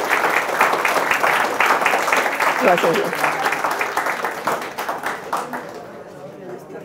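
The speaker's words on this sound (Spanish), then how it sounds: "recibamos con un fuerte aplauso" An audience applauds to welcome a female doctor and engineering researcher, the dense clapping steady for several seconds before tapering off, with a brief spoken thanks over it near the middle.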